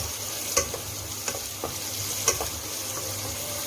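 Whole spices such as cumin, black pepper, cloves, cardamom, star anise and cinnamon frying in a pot for chicken yakhni pulao, a continuous sizzle with a few light spoon taps and stirs close by.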